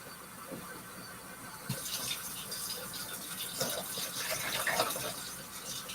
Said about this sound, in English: So please excuse the sound of the water running.